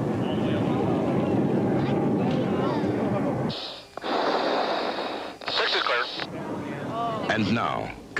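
An F-16 jet climbs steeply from ground level at a Thunderbirds air show, a broad roaring rush of engine noise that gives way to someone narrating over the crowd and loudspeakers.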